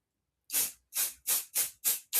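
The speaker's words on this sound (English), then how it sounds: "I'm going to spray just a little bit on here" Six short hissing bursts of aerosol spray onto fabric in a quick, even rhythm, close and crisp with silence between each.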